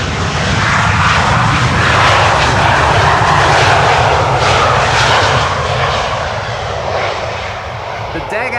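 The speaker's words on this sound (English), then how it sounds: "Another Embraer landed here." Embraer airliner landing at Amsterdam Schiphol Airport on a sunny, crosswindy day, a loud continuous roar of jet engines passing close by that eases slightly toward the end.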